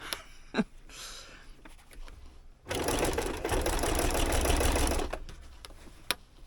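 Home sewing machine stitching forward and back along the edge of a pocket on a handmade Christmas gift: a few soft clicks, then one steady, close whirring run of about two seconds that stops abruptly.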